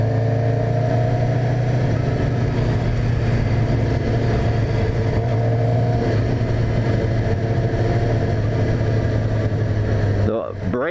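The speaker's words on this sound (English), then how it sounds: "Oh, I like the sound of this bike." A 2018 Suzuki GSXR750 sport motorcycle engine running loud and close, a steady droning note with rising and falling revs, cutting off near the end, with voices over it.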